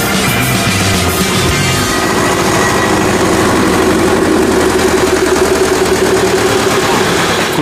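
An older tractor engine idles steadily throughout, a continuous low, rough rumble heard up close with no pauses.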